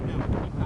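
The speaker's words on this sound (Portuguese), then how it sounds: "Olha a ventania, saca só a ventania que tá aqui." Strong wind roars across the microphone during a paragliding flight, a dense continuous rumbling buffet with no break.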